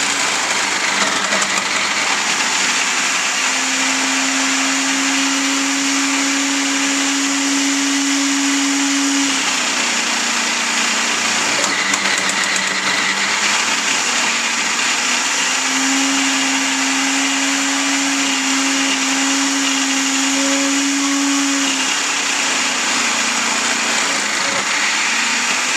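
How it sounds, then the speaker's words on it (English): A food grinding machine shredding blocks of cheese for homemade mac and cheese, a steady loud motor whine running in two long stretches with a brief lull between. "this is the grinding of the cheese"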